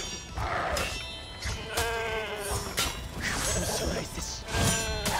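Sheep bleating in the video game For Honor, several wavering bleats over a busy game backdrop of clashes and thumps, with a voice talking over parts of it.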